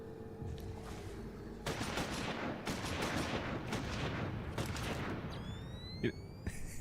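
Rapid bursts of gunfire from a Final Fantasy XIV battle rattle on and off in irregular volleys, with sharper single shots and a rising whine near the end.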